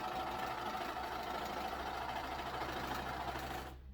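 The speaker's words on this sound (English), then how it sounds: "I'm only allowing my overlock machine to cut off just barely anything off the edge." An overlock serger sews a seam on the edge of a fabric tube skirt, trimming almost nothing off; a steady, close, continuous whirring motor hum runs alone before cutting off abruptly near the end.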